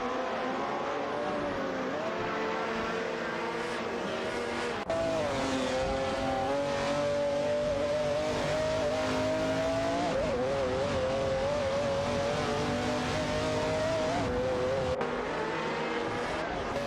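Race cars accelerate on a track in a continuous loud engine drone, pitch climbing and dropping with gear changes and passing cars, with tire squeal mixed in.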